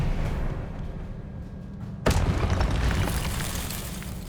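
The Expelliarmus disarming spell cast in the Hogwarts Legacy video game, a sudden booming burst midway that cuts in over a steady rumbling game background and lingers as a bright, crackling wash.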